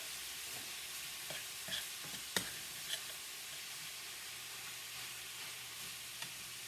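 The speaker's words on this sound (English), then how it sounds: "You want to cook your ground meat real fine." Ground meat fries with a soft, continuous sizzle while a sturdy spoon stirs it, adding occasional faint knocks and scrapes against the pan, all quiet and close.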